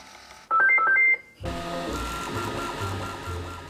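A 3D printer's AMS unit loads PLA Matte filament, first giving a short, loud series of electronic beeps, then a steady mechanical whirring and grinding feed motor running close by.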